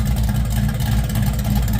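Deep, throaty rumble of a 1978 Chevrolet Malibu's 383 stroker V8 through a 3-inch exhaust with electric cutouts, a loud steady burble idling nearby.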